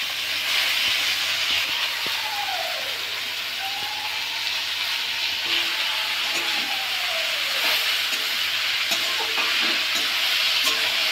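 Red amaranth leaves tossed with fried potatoes in a pan give off a steady hissing sizzle, with intermittent spatula stirs and scrapes, close and continuous throughout.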